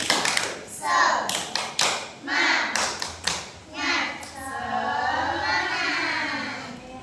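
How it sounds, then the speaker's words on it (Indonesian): Children in a classroom clap together in a quick rhythmic pattern of sharp taps, with a teacher's voice and kids' voices chanting along. "Kita tepuk semangat dulu."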